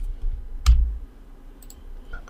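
A single sharp computer mouse click in a quiet room, followed by a couple of faint ticks, while selecting a contact in the Joomla admin interface.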